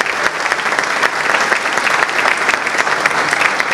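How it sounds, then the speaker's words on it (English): Steady, full applause from an audience at a Turkish police organisation's awards and solidarity night, dense clapping sustained evenly throughout. "So a big round of applause for all our helpers and TPA."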